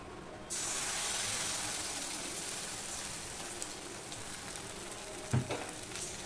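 Sesame seeds dropped into a little hot oil while making a flour and semolina tiffin, giving a sudden bright sizzle that holds as a steady hiss, with a soft knock near the end.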